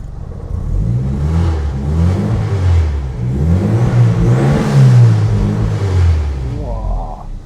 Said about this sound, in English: I'm really impressed how loud this car is.